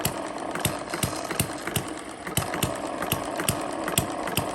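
Model hit and miss engine running on a small homemade dynamometer, giving sharp, regular firing knocks about three per second over a steady mechanical whir, close by.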